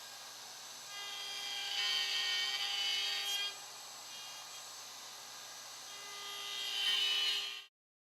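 Router with a number 80 bit cutting through-dovetail tails in wood on a Leigh Super Jig: a steady high whine that swells as each pass bites into the board, eases briefly, swells again, then cuts off abruptly.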